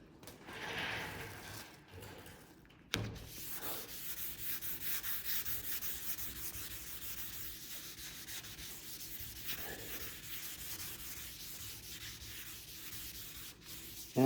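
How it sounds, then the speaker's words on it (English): Wet sanding the clear coat on a 1976 Pontiac Trans Am hood by hand with sandpaper, steady rhythmic rubbing strokes sliding back and forth close up, continuous for several seconds after a brief pause. "it's basically just to help the sandpaper move and slide."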